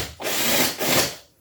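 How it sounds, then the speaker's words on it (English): A power drill bores into a wall during a home renovation, two short whining bursts of drilling, close and loud, with a brief pause between them. "now he's drilling into the wall so we can put plugs and then screw into the wall"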